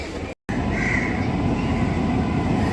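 An Indian Railways train hauled by a WAP7 electric locomotive rolls past a platform as a steady, loud rumble with a brief whine that holds throughout and has no voices.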